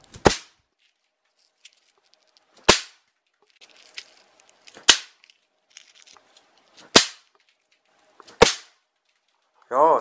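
Five sharp Silberknallteufel bang snaps pop one after another at roughly two-second intervals, each a loud, crisp crack with a short bright tail, followed by a brief burst of another noise at the very end.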